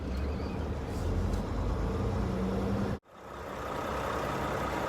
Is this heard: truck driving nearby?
yes